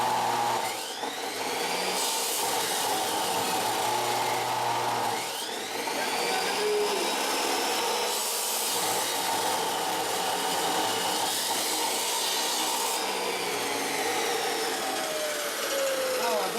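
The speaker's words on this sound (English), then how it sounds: "Now to the grinding wheel." A bench grinding wheel grinds burrs off metal parts for a Vierbike Quadra Sprint, a steady loud whine and rasp running nearly continuously, with brief dips where the workpiece is lifted and pressed back against the wheel.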